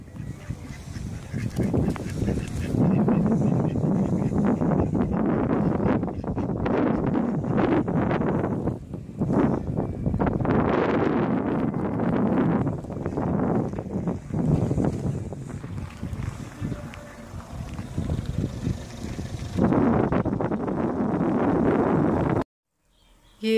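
Cool wind gusts outdoors by water where ducks swim, buffeting the microphone in loud, uneven rushes, with occasional honking calls in the background and a brief drop near the end.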